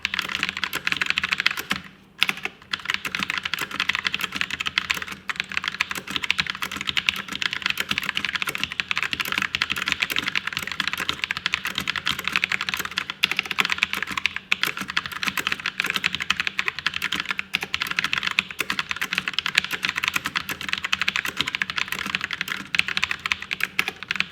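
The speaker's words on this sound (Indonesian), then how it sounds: "Mungkin kita lanjut ke typing test saja kali ya, brown switch ini." Rapid continuous typing on a Rexus Legionare MX5.1 mechanical keyboard with tactile brown switches, dense steady key clatter close up throughout with no talking.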